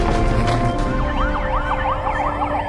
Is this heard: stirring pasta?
no